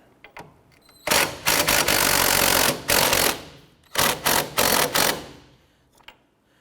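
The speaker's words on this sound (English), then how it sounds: "Using a 15mm deep socket, we're going to go ahead and remove our sway bar end link nut, securing that to the strut." A 15mm deep socket on a power tool removes the sway bar end link nut from the rear strut of a 2006-2013 Chevrolet Impala. One long, loud rattling burst is followed by several short hammering bursts, close and alone.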